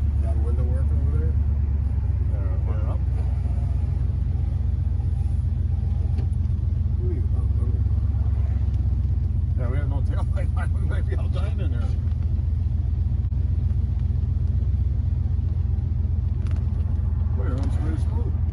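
A 1972 Buick GS455 convertible rumbles in a steady, loud low drone while driving on the road, with people talking intermittently over the engine.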